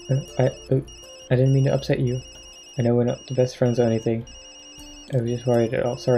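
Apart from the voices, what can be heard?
phone ringing, from a video game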